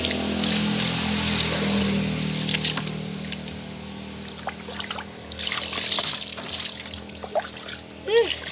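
Cold water splashes and trickles during a bath, with repeated pours and splatters that swell louder toward the end, while a person talks faintly.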